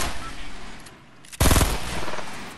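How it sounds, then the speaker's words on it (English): Gunfire in a video game: a quieter stretch of shooting followed by a sudden loud burst of rapid machine-gun fire that carries on to the end. "Where's he shooting at?"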